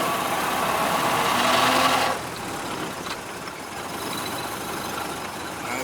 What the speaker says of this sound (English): First gear, just get it rolling, just put it in second.